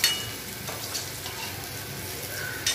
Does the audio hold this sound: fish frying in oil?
yes